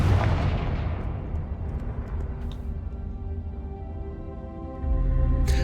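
A Confringo fire spell explodes in the Hogwarts Legacy video game with a loud, deep boom that rolls into a long rumbling tail, then a second heavy burst near the end.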